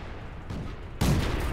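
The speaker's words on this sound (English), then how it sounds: "Fire a couple more blind shots just in case that medium is still there." A tank gun in World of Tanks, on the Renault UE 57, fires blind shots: a softer report, then a loud, sharp blast about half a second later that rumbles on to the end, with no talk.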